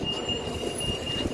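A London Underground Piccadilly line train at South Harrow station: train rumble and faint metallic wheel squeal, with a thin high whine over a low steady rumble.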